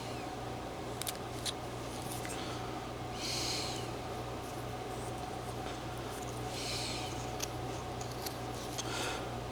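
Quiet scraping slices of a knife carving a small 2 1/2 inch figure from a block of wood, two soft rasping cuts standing out over a faint steady background hum.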